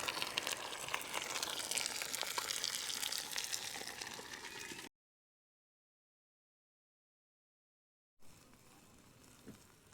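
Butterflied lamb sears on a camp cooker with a steady, close sizzle and crackle that cuts off abruptly partway through, then returns more quietly.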